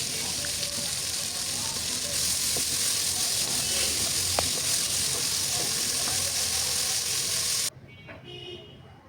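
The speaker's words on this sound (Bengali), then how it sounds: "এই তো পেঁয়াজগুলো ভাজা হয়ে গেছে" About one and a half cups of onions fry with cinnamon and cardamom in a pan, a steady, close hiss of sizzling oil that runs continuously before cutting off abruptly near the end.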